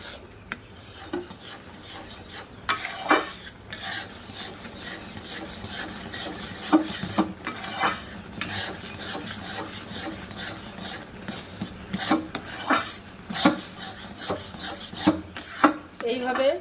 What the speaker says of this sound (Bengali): যে ভেজে রাখা আটাটা ছিল ওই আটাটা আমি দিয়ে দেব দিয়ে এবার নাড়তে থাকবো যেন দলা না পাকিয়ে যায়